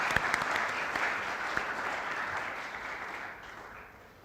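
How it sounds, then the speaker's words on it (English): Steady applause from an audience at a student leadership ceremony as students receive badges, a dense even patter of many hands that holds for several seconds and fades slightly near the end. "Can we give them all a round of applause,"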